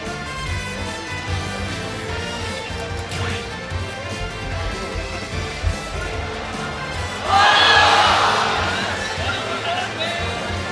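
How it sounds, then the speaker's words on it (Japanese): Crowd cheering at a Super Smash Bros. tournament in Japan, a loud roar rising sharply late in the clip and slowly fading. Commentators talk throughout over steady venue noise. "後ろの歓声がもう非常に凄まじくて"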